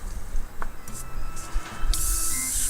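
An airbrush sprays Alclad2 gloss black base in short hissing bursts, ending in a sustained airy spray that continues to the end.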